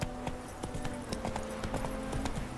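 Horse hooves clip-clop steadily in The Witcher 3: Wild Hunt as the mount is ridden, a brisk regular rhythm of close hoofbeats with a brief snort or whinny among them.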